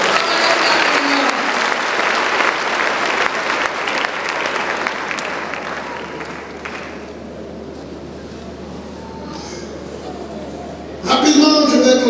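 A church congregation at a worship service claps and cheers in loud, dense applause that fades after about seven seconds into a quieter murmur of voices, then swells again briefly at the end.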